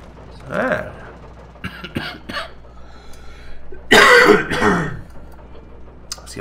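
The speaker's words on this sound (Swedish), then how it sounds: "Jag ska bara hosta lite till." A man coughing and clearing his throat several times, close and loud, with a harsh burst of coughing partway through and quiet background hum between the coughs.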